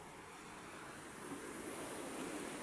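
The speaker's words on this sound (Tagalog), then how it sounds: "maingay kasi ito na yung dagat, oh." Sea waves wash against a seawall, a continuous broadband roar of surf with steady wind-like rush, moderately faint and unbroken, with no voices.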